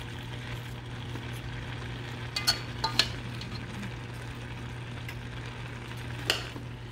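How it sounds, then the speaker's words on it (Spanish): Chicken sancocho ingredients stirred together in a pot, giving a steady low sizzle with a handful of sharp utensil clicks against the pot. "Mezclamos todo esto"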